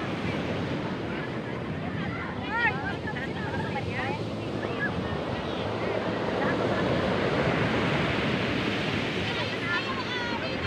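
Ocean waves break and wash continuously on Dinadiawan Beach, a broad roar of surf mixed with wind buffeting the microphone, while people's voices and faint whistles rise briefly over it.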